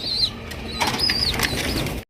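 Pigeons' wings flap in quick, close fluttering bursts as they jump for food, mixed with a few high chirps and light rustling; no voices.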